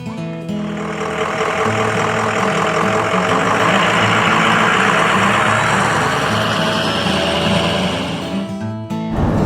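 A Humane Society transport truck idles steadily with a loud, close, even mechanical drone, holding constant for several seconds before cutting off abruptly.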